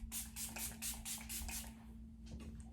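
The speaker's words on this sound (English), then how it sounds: "I'm gonna use the Milani Make It Last setting spray." Milani Make It Last setting spray mists from its pump bottle in a quick series of about eight short, close hissing sprays, then two fainter bursts after a brief pause, over a low steady hum.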